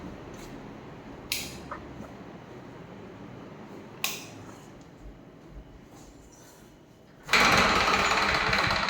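An electric fan in a home kitchen switches on abruptly near the end and blows a loud, steady whoosh. Before it starts there are only a few sharp clicks and knocks over a quiet room.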